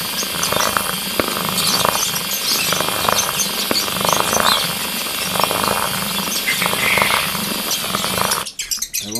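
A power drill bores a hole with an undersized bit through a plastic bird waterer, giving a continuous grinding, buzzing whir with uneven pulses, close up, before stopping abruptly near the end.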